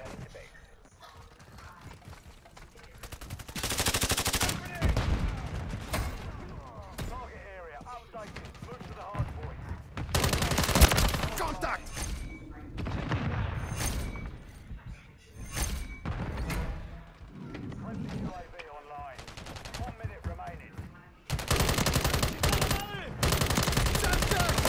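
Call of Duty gunfire comes in loud repeated bursts of automatic weapons and heavy shots, separated by quieter gaps, with game sounds and occasional voices between the volleys.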